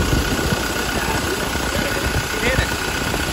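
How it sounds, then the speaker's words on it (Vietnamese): 2018 Ford Transit van engine idling smoothly, a steady continuous mid-low rumble close by, with someone talking over it. "máy nổ rất là êm, máy nổ rất là êm luôn"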